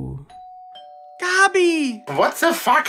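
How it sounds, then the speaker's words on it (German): A doorbell chimes a clear two-tone ding-dong that rings out and decays, followed by shouting voices. "Du kannst doch nicht einfach klingeln!"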